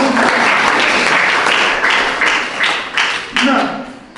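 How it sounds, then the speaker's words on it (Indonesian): A church congregation bursts into loud applause, rhythmic bursts of clapping swelling and dipping over about four seconds with voices mixed in. "Tepuk tangan sekali lagi."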